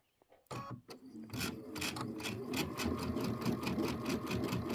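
A Brother Luminaire sewing machine stitches quilt blocks with a center straight stitch, starting after a brief quiet moment and then running in a rapid, steady, close mechanical rhythm that holds to the end.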